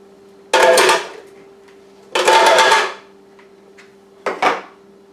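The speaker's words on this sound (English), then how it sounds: "Throw some ice in my handy blender here." A blender crushing ice whirs in three bursts, two longer pulses and a short final one, grinding loudly against a steady background hum.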